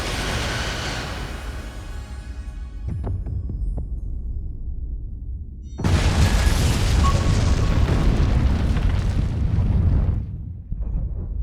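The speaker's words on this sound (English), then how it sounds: "Firing photon torpedoes." Photon torpedoes exploding in the Star Trek: Resurgence game, with deep rumbling blasts, a brief lull, then a sudden loud booming burst that roars for several seconds and trails off.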